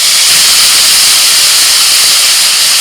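Fenugreek seeds and onion paste hit hot mustard oil left from frying rohu fish, producing a loud, dense, steady sizzle right up close, with no talking.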